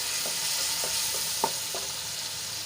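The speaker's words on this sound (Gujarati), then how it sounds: "અને મરચાંને આપણે મિક્સ કરી લઈશું" Green chillies fry in a pan with a little water sprinkled in, a soft continuous sizzle broken by a few evenly spaced stirring scrapes, close but quiet.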